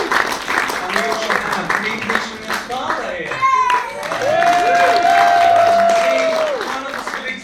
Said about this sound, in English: could we have a round of applause for my mum?